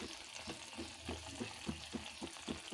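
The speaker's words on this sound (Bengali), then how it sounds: "মশলাটাকে ভালো করে কষাতে হবে।" Ground spice paste fries in oil in a pan for a fish and tomato curry, a quiet sizzle broken by soft, regular stirring scrapes about every third of a second.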